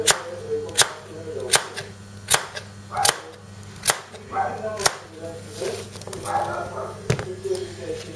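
A Tops Lite Trekker survival knife chops butternut squash into thick pieces on a board, striking about a dozen sharp, close, evenly spaced blows under a steady low hum.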